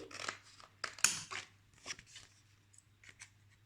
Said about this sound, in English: Students, please use scissors very carefully.